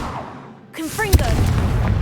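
Confringo fire spell cast in Hogwarts Legacy: a single sharp burst with a crackling whoosh, followed by sustained rumbling noise, with a voice and game sounds around it.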